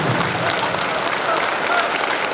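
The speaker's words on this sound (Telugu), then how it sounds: "మనం అందరము ఒకసారి గట్టిగా చప్పట్లతో అభినందించారు." An audience applauds at a pyramid dedication ceremony in Peravaram near Pithapuram, with steady, dense clapping that fills the whole moment at an even, fairly loud level.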